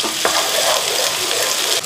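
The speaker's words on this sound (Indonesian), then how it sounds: "di sini aku punya minyak yang sudah aku panaskan dan ini udah mulai panas, teman-teman. Dan sekarang kita mau langsung aja tumis bawang merah dulu." Shallots sauté in hot oil with a loud, close, continuous sizzle, broken by a brief stirring knock near the start.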